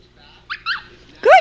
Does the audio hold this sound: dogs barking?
yes